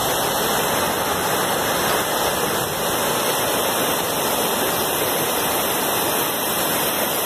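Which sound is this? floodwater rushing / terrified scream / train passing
floodwater rushing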